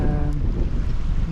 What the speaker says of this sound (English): It's quite windy here in the bay, even with the barrage.